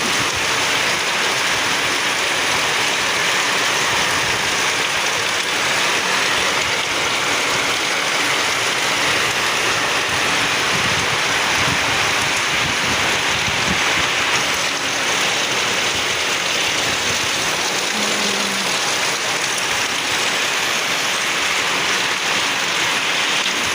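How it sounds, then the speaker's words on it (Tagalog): Heavy rain pours down with strong wind in a dense, unbroken roar, close and loud throughout, with a faint low rumble beneath. "Sobrang lakas ng ulan at saka malakas yung hangin"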